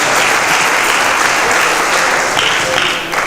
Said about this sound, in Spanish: Dale palmas al Señor de la gloria.